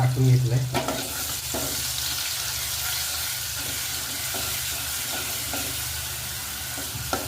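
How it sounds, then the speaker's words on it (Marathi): Mustard seeds and curry leaves frying in hot oil for a dal tempering give a steady, close sizzle with a dense crackling hiss that runs unbroken from start to finish. "तर ही फोडणी आहे ना आपण तेलामध्ये चांगली फ्राय करून घेतलेली आहे"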